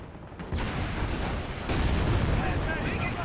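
Rifle grenade blast in the World War II strategy game Company of Heroes, a sudden booming explosion with rumbling debris and battle noise that swells again partway through, dense and loud from start to finish.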